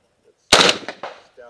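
A rifle fitted with a muzzle brake and recoil reducer fires a single loud, sharp gunshot whose blast decays in a couple of quick echoing pulses, with faint voices just before and after.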